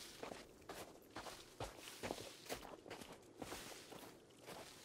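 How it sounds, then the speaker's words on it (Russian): Running footsteps in Sons of the Forest, crunching through a snowy winter landscape as a quick, regular series of about a dozen soft thuds at moderate distance, with no talk over them. "Вот бежит же кто-то, я ж слышу шаги."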